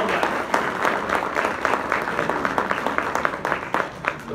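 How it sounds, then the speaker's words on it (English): A church congregation claps together in a brief burst, individual claps distinct and fairly rhythmic, moderately loud and close, with no speech over it. "We're just going to clap for her."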